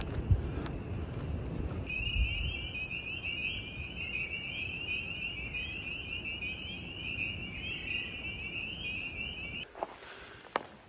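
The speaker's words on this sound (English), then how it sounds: "when you hear what sounds like car alarms going off in the forest that it's actually a bunch of toads singing in a pond" Toads trill in a forest pond, one long steady high-pitched ringing call from about two to nine and a half seconds, similar to a car alarm, heard clearly over low rumbling footsteps and wind noise.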